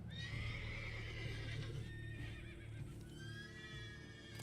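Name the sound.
horse neighing in the video game The Witcher 3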